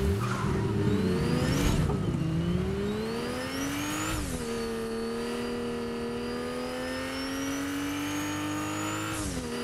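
Several cars in the Fortnite video game rev loudly and steadily, engine pitch climbing and dropping in a few surges across the stretch, with no talk over it.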